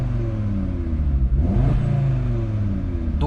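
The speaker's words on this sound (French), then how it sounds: "je vais vous faire écouter vite fait en mettant 2-3 petits coups de gaz léger" An Audi RS3 with 400 hp idles close by in dynamic mode, its deep rumble lifted by a few light throttle blips that rise and fall smoothly, with one stronger rev in the middle.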